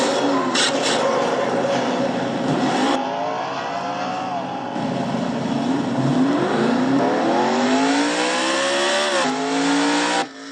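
A race car engine in a racing video game cranks, catches and revs hard, a loud continuous whining roar with rising and falling pitch sweeps, cutting out briefly before climbing again.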